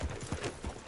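Horse hooves clip-clop at a gallop in Red Dead Redemption 2, a short, quiet burst of rhythmic thuds.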